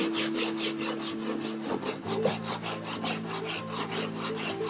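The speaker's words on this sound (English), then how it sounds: "put a little bit of 80 grit on there, use that sanding sponge. And I just start to go over it." An 80 grit sanding sponge rubs back and forth over a wooden round-over edge, giving a steady, close, rhythmic rasping scrape with no talking.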